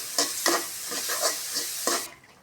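Kuli pitha filling stirred in a pan with a pinch of salt: about five scraping strokes against a soft frying sizzle, close and fairly quiet, ending abruptly.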